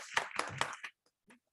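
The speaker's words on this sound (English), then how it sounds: "तालियों की गड़गड़ाहट इतनी कमजोर क्यों है?" Weak applause from a media festival audience: a few scattered, quick hand claps in a short burst, then near silence with one faint late clap.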